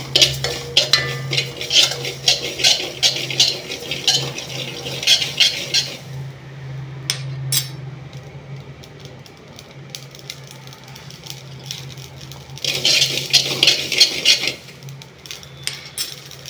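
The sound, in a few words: mustard seeds frying and being stirred in a pan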